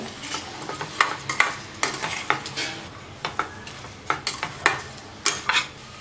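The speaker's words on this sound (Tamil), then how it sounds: "நம்ம ப்ரெட்டு பீஸ் போட்டதுக்கப்புறம் நல்லா கலந்து விடுங்க" Bread pieces being stirred into Manchurian sauce in a pan, with spoon scrapes and clinks repeating in an irregular rhythm over a soft sizzle, close and fairly loud.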